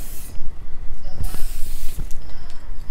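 Aerosol hairspray is sprayed onto bangs of wavy hair in two or three close, bright hissing bursts separated by brief pauses, with no speech.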